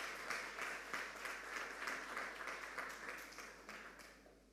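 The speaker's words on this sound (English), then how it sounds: "A round of applause for them." A small audience at a school quiz competition gives a team a round of applause, with distinct, rhythmic clapping that gradually thins and tapers off.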